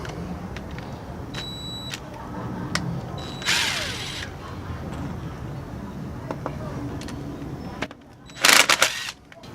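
A pneumatic impact gun loosens tight brake lines on the caliper of a Honda CBR1000RR motorcycle, giving a loud burst of rattling hammering near the end, with an earlier shorter burst and ratchet-like clicks and background noise throughout.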